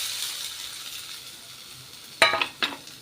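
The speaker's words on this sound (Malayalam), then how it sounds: "ഇനി നമ്മുടെ അരപ്പ് ഒന്ന് ഇട്ട് കൊടുക്കാം" Ground coconut paste for jackfruit thoran drops into a hot pan, bringing a steady soft sizzle followed by a few sharp clinks and scrapes of a utensil against the pan near the end.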